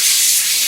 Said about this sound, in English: finally, we can use the compressed air